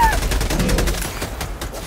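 Gunfire in the Helldivers 2 video game, a rapid burst of automatic shots close up that fills the short clip, with a voice talking over it.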